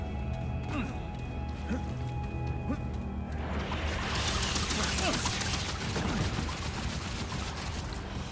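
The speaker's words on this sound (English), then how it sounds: "Once you shoot the barrel, it should open up this entrance right here." In the Remnant 2 video game, an explosive barrel is shot and bursts into a loud, broad blast about midway, its crackling roar lingering for several seconds over low background game sound.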